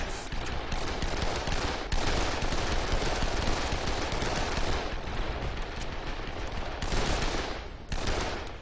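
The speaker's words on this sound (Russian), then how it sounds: "И кто-то стреляет." Dense gunfire in the zombie game Dead Island crackles almost continuously, rapid automatic bursts and overlapping shots forming a loud, busy barrage with brief dips between volleys.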